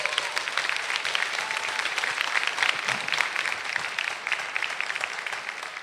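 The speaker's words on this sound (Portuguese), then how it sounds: "Pode aplaudir a Jesus por isso." A church congregation applauds in a large hall, a sustained wash of many hands clapping at fairly strong level, continuous without a break.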